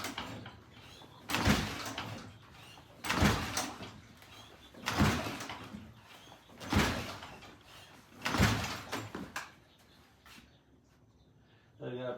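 A Norton Fastback motorcycle is kicked over repeatedly with the throttle wide open for a compression test, producing six evenly spaced loud whooshing strokes about every 1.7 seconds, close by.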